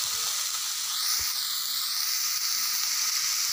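Ridge gourd peels fry in a pan with a steady, close sizzling hiss that holds evenly throughout, with no talk.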